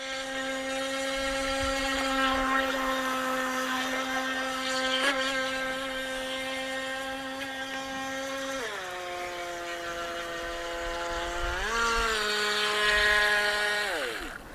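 Intey H102 high-speed RC boat motor whining steadily at high pitch as it runs on water, the tone dipping and rising several times with throttle changes, loud and close throughout.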